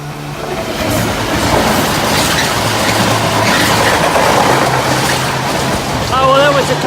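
A train rushes past very close by on a coastal walking route, a loud sustained roar and rumble with rattling wheels that fades slightly before a voice speaks briefly at the end.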